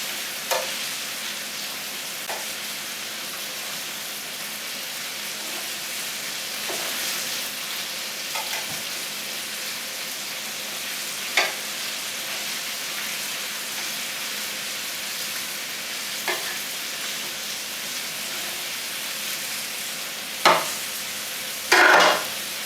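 Chicken for chicken piccata browns in a hot pan with a steady, close sizzle and crackle that keeps going, marked by a few sharp clinks and scrapes, with no talking.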